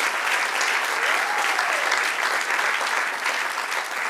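Steady applause from a church congregation during a Spanish-language sermon, dense and even throughout, with a faint voice rising briefly over the clapping.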